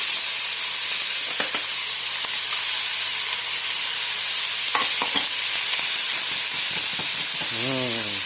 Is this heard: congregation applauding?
no